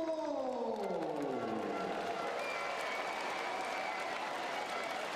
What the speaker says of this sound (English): such a nice warm applause